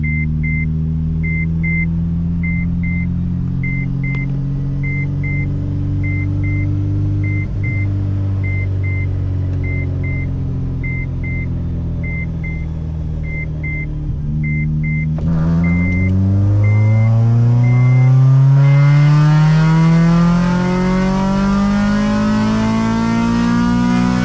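A 2007 Honda Civic Si with a K24A engine revs steadily on a dyno, rising loud and close, then surging harder past the VTEC crossover and climbing toward redline with a strong, continuous harmonic howl.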